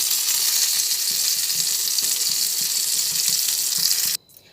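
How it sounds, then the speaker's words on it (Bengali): Pointed gourd (potol) fries in hot oil with a loud, steady, hissing sizzle that runs unbroken for about four seconds, then cuts off abruptly into near silence. "পটলগুলো ভেজে নিলাম এক এক করে তেল ঝরিয়ে তা পাত্রে তুলে নিচ্ছি"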